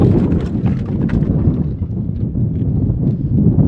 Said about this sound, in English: It's unbelievable how much I have to dodge the wind right now.